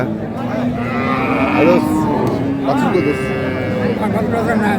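A dairy cow moos loudly and at length, close by, with a second lowing call following amid a busy background of people talking at Ambari cattle market.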